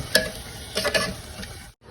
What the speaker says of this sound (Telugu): ఇదంతా మంచిగా కలిపేసేసుకోండి కర్డ్ని ఈ మసాలాకి.